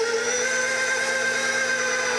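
A meat tenderizer attachment on a stand mixer runs trimmed steak pieces through for chicken fried steak, giving a steady close motor whine with a constant tonal drone and no pauses.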